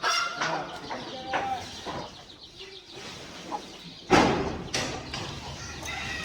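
Free-range chickens kept on a rubbish heap cluck intermittently at moderate distance, with a louder burst of flock noise near the end and people talking over the birds.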